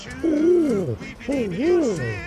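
A human voice imitates a wood pigeon with two rising and falling cooing phrases, close and clear, in a short pause between radio chatter.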